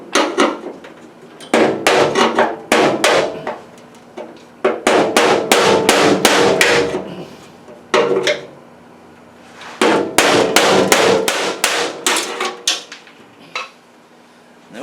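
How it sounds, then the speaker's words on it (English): A hammer strikes a chisel against the metal firewall of a 1934 car in rapid clusters of sharp, ringing blows, with short pauses between the flurries. "So I'm going to try from the inside first with this chisel"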